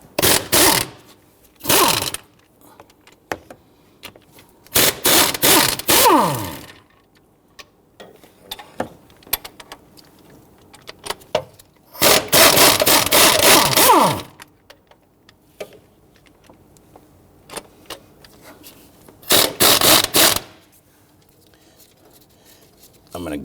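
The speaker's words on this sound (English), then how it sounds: "we're now going to go ahead and undo the 4 17mm bolts holding the bracket here" Ratcheting on the 17mm bolts of a transmission mount bracket on a 2011-2015 Kia Sorento 2.4L four-cylinder, heard as several bursts of rapid metallic clicking at close range, separated by quieter pauses with light handling noises.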